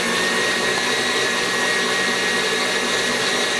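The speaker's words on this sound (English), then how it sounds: "I'm gonna beat this till it's light and fluffy." An electric mixer beats white chocolate chip coconut cookie batter, a loud, steady, unbroken whirring drone that holds at one even pitch throughout.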